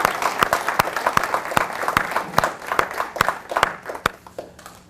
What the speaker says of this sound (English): let's get a round of applause for the students that are here today